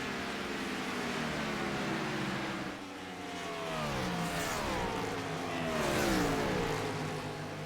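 Stock race cars in a Gen 4 series championship finale at Texas roar around the track, several engines droning and shifting pitch as they pass, a steady loud racing drone with swelling and fading passes.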